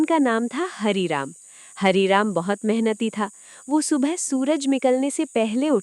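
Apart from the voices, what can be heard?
crickets chirping at night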